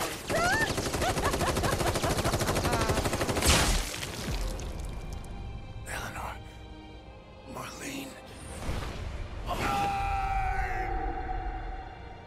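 Rapid gunfire from a weapon in the video game Final Fantasy VII Remake, dense bursts under loud game music and effects with brief gaps, followed by sharper shots and sweeping tones.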